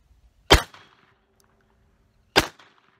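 Two sharp, loud gunshots from a Sundance Point Blank .22 LR pistol crack about two seconds apart, each followed by a short ring of decay in otherwise quiet surroundings.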